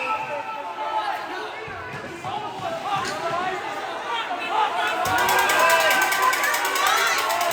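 A crowd at a junior C playoff hockey game in an arena, loud steady cheering and chatter that swells toward the end, with skate scrapes and clatter from the ice.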